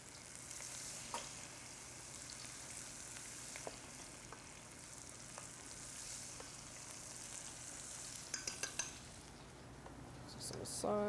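Onions fry in hot oil with a steady, bright sizzle throughout, clinks of a pan and utensil near the end, and occasional faint talk in a cooking demo setting.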